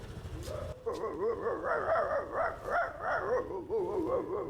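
A man mimics a dog, producing a run of wavering, yelping barks and whines in quick succession, close and fairly loud, after a short burst of low noise at the start.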